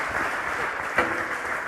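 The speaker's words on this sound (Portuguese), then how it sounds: "Uma salva de palmas." At a culture festival stage talk, a live audience breaks into dense, steady applause, a continuous wash of many hands clapping at an even level throughout.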